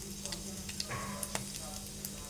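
Fenugreek seeds sizzling in hot oil in a pan, a soft continuous crackle with small pops and clicks close by, under faint background hum.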